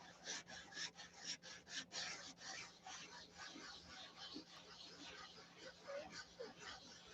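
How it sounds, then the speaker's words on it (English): Wood is hand sanded in circles, producing a soft, rhythmic rasping scrub that repeats steadily and close, with brief talk heard beneath it. "So just sand a circle."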